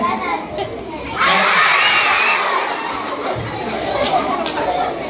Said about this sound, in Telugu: అట్లా అరుస్తున్నారు పిల్లలు